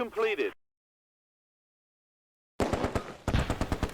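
A Vickers machine gun fires in Close Combat A Bridge Too Far during the Arnhem west approach of Operation Market Garden. A short voice is followed by silence, then loud rattling bursts that settle into a rapid, evenly spaced string of shots.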